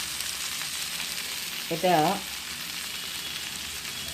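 Gravy goes into a hot frying pan for a vegetarian dish made without onion or garlic, raising a loud, steady sizzle that fills the whole stretch, with one short spoken word partway through.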